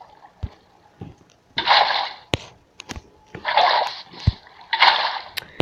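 Water splashing in a Minecraft-style farming game, three bursts of sloshing splashes at irregular intervals, separated by short clicks and quiet gaps.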